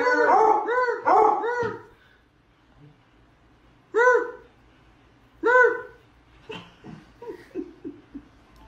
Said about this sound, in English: Dog is left speechless after talking back at dinner.